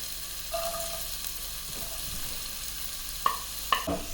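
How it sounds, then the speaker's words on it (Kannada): Capsicum and onion pan frying with garlic give a soft, steady sizzle close by, broken by a few stirring scrapes and clinks of a utensil against the pan near the end. "ಗೋಲ್ಡನ್ ಬ್ರೌನ್ ಬರೋವರೆಗೂ ಇದನ್ನು ಪ್ಯಾನ್ ಫ್ರೈ ಮಾಡ್ಕೋಬೇಕು"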